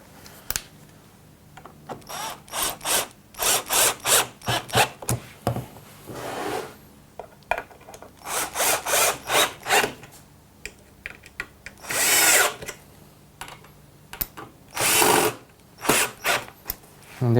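A Triton drill driver drives screws to fix a handle onto a wooden toolbox in repeated short whirring bursts, each a second or so long. Brief pauses separate the bursts, and the tool is close and fairly loud.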